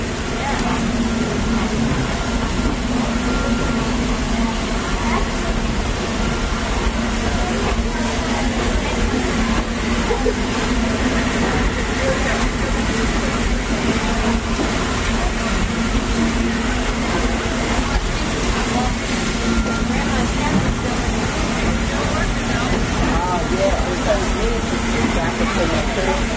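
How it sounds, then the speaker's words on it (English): An authentic 1925 Baldwin steam train on the Walt Disney World Railroad rolls along, giving a continuous moderate rumble and clatter while people talk over it. "currently riding on an authentic steam train built in 1925 by the Baldwin Boca Boca Company."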